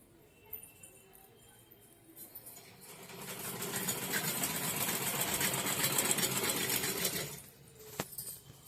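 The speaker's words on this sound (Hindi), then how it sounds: "अभी हम सिलाई कर रहे हैं" A sewing machine stitches a blouse in a home. It whirs steadily and loudly for about four seconds after a few faint starts, then stops abruptly, followed by a sharp click.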